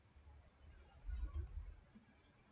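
A single faint computer mouse right-click, a short soft tick in a quiet room with low background hum.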